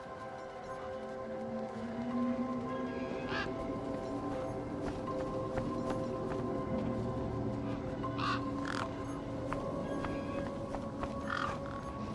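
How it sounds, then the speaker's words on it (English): A large bird calls in the video game Beyond a Steel Sky, with several short crow-like caws rising over a steady ambient bed and music, no speech. "One particularly large and familiar bird stood out from the rest."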